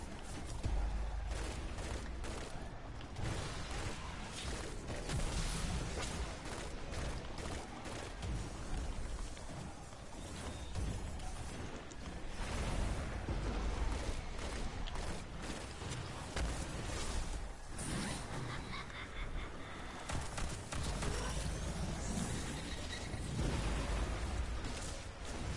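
Rapid explosions in a video game, a dense, unbroken barrage of overlapping bursts and booms lasting the whole stretch, fairly faint overall.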